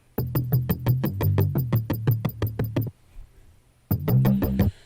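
A synth arpeggio with its low frequencies removed plucks rapid, evenly spaced notes in a bright repeating pattern, pausing for about a second before the sequence resumes.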